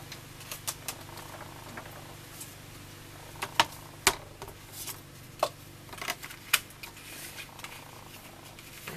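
A blade or scissors cut through paper and cardstock for a farmhouse-style scrapbook album, giving a series of sharp, close snips and crisp ticks in an uneven rhythm over a quiet background.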